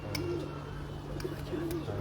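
Pigeons coo softly on a rooftop in Lahore, with a few low, rounded cooing phrases over a steady background hum.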